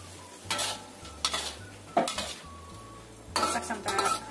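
A spoon scrapes and clatters in bursts as food seasoned with pepper, salt, broth powder and sugar is stirred in a frying pan, with a faint sizzle underneath.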